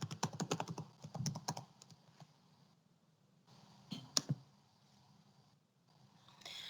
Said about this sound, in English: Let me re-enter the password.